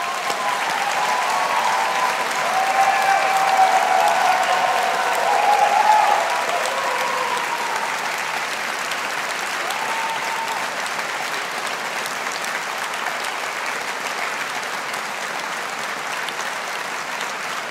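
Graduation ceremony audience at Strathclyde Business School applauding the 2022 graduates, a steady, dense wash of many hands clapping in a large hall, swelling slightly early on and then holding level for the whole stretch without speech.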